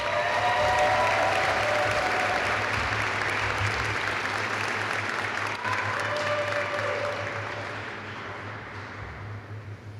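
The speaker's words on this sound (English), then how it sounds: "Let's have a round of applause for our Outstanding NCO of the Year nominees." A ceremony audience applauds Outstanding NCO of the Year nominees at an Airman recognition event, a sustained wash of clapping from a large crowd that gradually tapers off over ten seconds.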